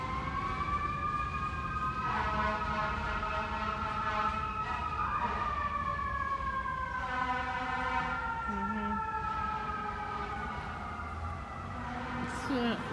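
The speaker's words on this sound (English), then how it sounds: "Sirens again." Several wailing sirens overlap at a distance, rising and falling in long sweeps, with a steady background hum and occasional voices.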